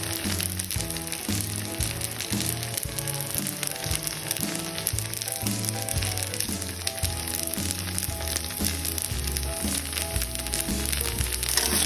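Egg and yellow noodles sizzle steadily in a hot pan as they are stir-fried, a continuous frying hiss running the whole time beneath loud background music.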